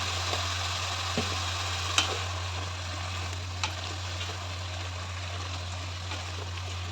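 A prawn and cucumber curry with coriander, chilli and turmeric powders cooks in a Miyako multi curry cooker, giving a soft continuous sizzle over a low electric hum, broken by a few faint clicks of stirring.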